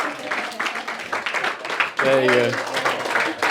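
Audience applause for the cast at a film launch screening, a broad wash of clapping running throughout under a voice speaking, with a brief tonal sound midway.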